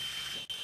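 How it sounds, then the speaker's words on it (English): Drill boring a hole into the bumper of a 2020 Ford F350 pickup, a steady, close high-pitched whine with a brief dip near the end, with no talking. "I'm gonna drill a hole into the bumper area."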